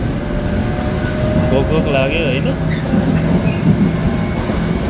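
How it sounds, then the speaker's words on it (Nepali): A train pulls into a station in Yongsan, South Korea, a steady loud rumble of rolling wheels and carriages with a brief squeal of brakes partway through, while people talk close by. "ट्रेन आयो है"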